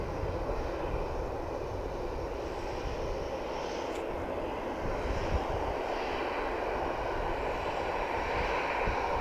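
A light aircraft rolls onto the runway at an airport's south side, its engine a steady, loud drone with no break or change throughout.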